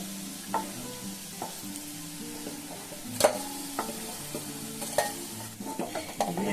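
Cauliflower koftas stuffed with filling fry in a pan while a spatula stirs and lifts them out, a faint steady sizzle broken by scattered scraping clicks and taps of utensil against metal, no voices.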